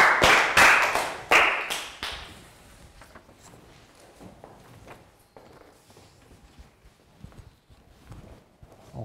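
A classroom of young pupils gives a short burst of clapping, loud and close for about two seconds, then fades into quiet room noise with scattered taps and shuffling.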